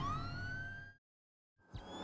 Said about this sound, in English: Why's the ambulance still making sounds?